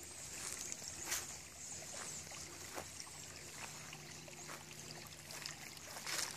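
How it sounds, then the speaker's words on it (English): Leaking water runs steadily down a road outdoors, a continuous trickling wash with faint splashes and ambient noise, no voices. "That's the water we pay for. Running down the road happily while we have none in our taps."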